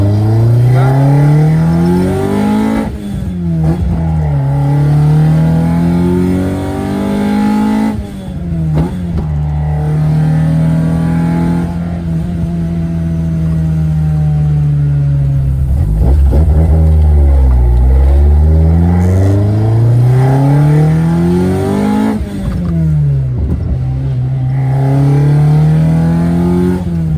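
A loud Opel C20XE car engine revs and rises through the gears repeatedly, pitch climbing then dropping at each shift, close and continuous throughout.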